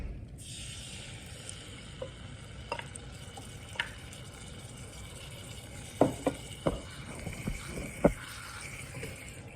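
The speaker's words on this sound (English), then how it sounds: "I'm gonna go ahead and add my marinara to heat that up" Marinara sauce heats in a pan with sautéed pepperoni, giving a soft, low simmering sizzle broken by occasional stirring clinks and scrapes of a utensil against the pan.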